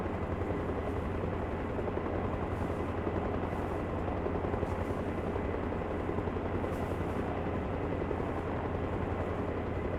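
Steady, loud helicopter rotor chop from a flight training session in the video game Arma Reforger, a dense continuous thrum with engine whine that holds evenly throughout, with no voices.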